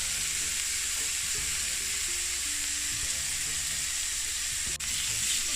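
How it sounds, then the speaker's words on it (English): Asparagus seasoned with salt and pepper sizzles steadily in a hot frying pan, a close, even crackle with a slight dip near the end and no voices. "at the same time I'm going to pop my asparagus in."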